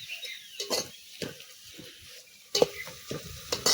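Onions sautéing in a pan for cowpeas pulao, with sparse scraping and tapping of a spoon against the pan over a low sizzle, close and intermittent, louder strokes near the end, no speech.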